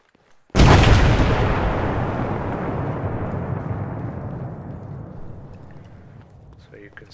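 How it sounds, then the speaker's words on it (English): Explosive charges detonate in a terrain-cratering simulation on a runway: one sudden loud boom followed by a long, slowly fading roar and rumble lasting several seconds. "I'll put an explosive charge down here, and then I'll stick one over here."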